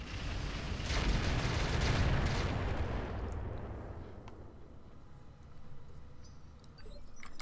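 Heavy mech weapons fire in the RogueTech BattleTech game, a dense rumbling barrage loudest in the first three seconds, then fading to a lower roar with scattered sharp reports near the end.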